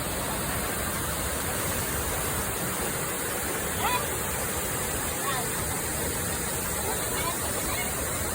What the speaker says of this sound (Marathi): एकदम वरून धबधबा पडतोय